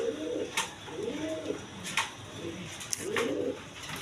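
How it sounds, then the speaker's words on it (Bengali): Racer pigeons at a pigeon farm cooing in a soft, repeated rhythm, four low rolling coos at close range with a few sharp clicks between them and no talk. "অরিজিনাল রেসার কবুতর।"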